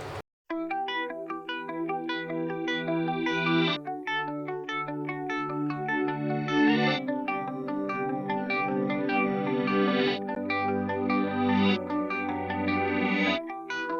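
Sustained, swelling guitar chords with a reversed, backward-building attack, washed in chorus shimmer and reverb, played steadily without any voices.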